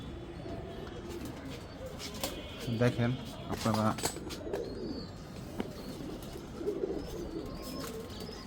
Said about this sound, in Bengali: এই যে মাত্র অল্প কয়েকটা কবুতর আছে